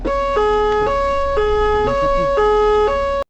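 Ambulance siren wailing in a steady two-tone pattern, alternating high and low pitch about every half second, loud and close throughout with no talk over it.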